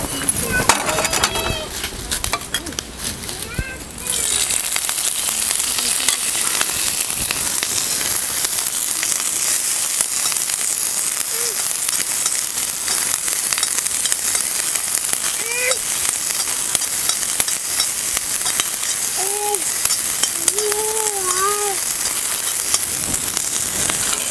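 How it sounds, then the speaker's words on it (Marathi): Green chillies roasting in a little oil in a pan, giving a loud, steady, close sizzle that runs the whole time, with faint voices murmuring underneath. "मिरच्या भाजून घ्यायचं, जरा तेल टाकूया"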